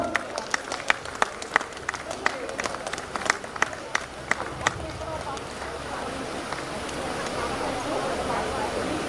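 At a university golden jubilee event, a few people in the audience clap in scattered, distinct claps for a volunteer receiving a memento. The claps thin out after a few seconds into a low room murmur.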